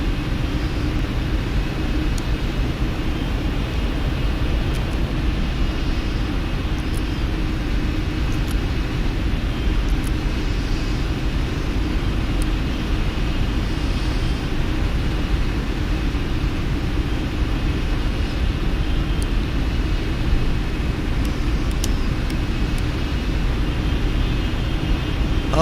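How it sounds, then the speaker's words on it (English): Boeing 747 jet engines running after start-up, a steady broad roar with a low rumbling base heard from inside the aircraft, constant and unbroken. "Here goes engine 1. You talking about a lot of power going right there"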